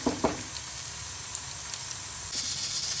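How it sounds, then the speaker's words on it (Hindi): Onions sizzle and hiss steadily in hot oil in a pot for beef yakhni pulao, a close, constant frying crackle with a few stirring clinks and no talking. "मैं इसके अंदर वो ऐड करूंगी। प्याजों को हम लाइट गोल्डन होने देंगे, ज़्यादा जलाने नहीं है"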